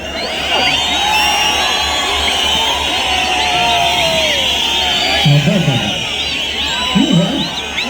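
A large outdoor crowd at a live event roars with sustained cheering and whistles, loud and continuous throughout, with scattered shouts rising near the end.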